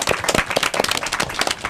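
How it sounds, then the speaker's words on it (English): Audience applause at an elementary school derby match, a steady patter of claps from a modest crowd, moderately loud and close, with no talk over it. "I like to hear that big round of applause for yourself."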